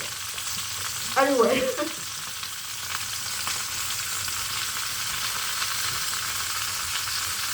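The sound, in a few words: peppers frying in oil for peperonata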